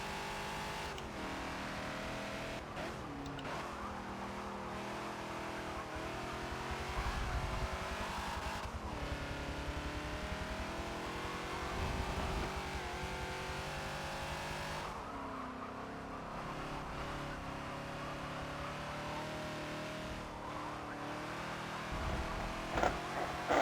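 Ford Falcon XB in a Forza racing game lapping Hockenheim National, engine revving up and down through gear changes with occasional tire squeal under braking, loud and continuous.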